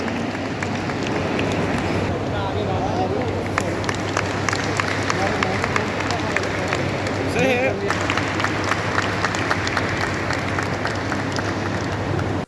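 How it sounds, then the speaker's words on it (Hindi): Audience applause welcoming a guest at a Fortis Hospital Manesar event for mother and child care, a steady wash of many hands clapping at moderate loudness throughout, with faint voices mixed in. "तो उनकी तालियों से हम स्वागत करते हैं।"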